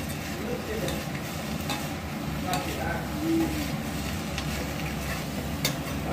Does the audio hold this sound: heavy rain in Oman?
no